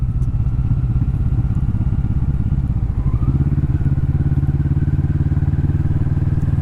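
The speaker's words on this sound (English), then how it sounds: "Keep the engine nice and low as we toot along past" A Kawasaki Vulcan S motorcycle engine held at low revs, a steady close rumble with a dense low pulse that shifts slightly in pitch partway through as the bike cruises past.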